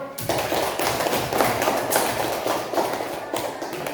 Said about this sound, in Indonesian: Tepuk tangan buat semuanya dulu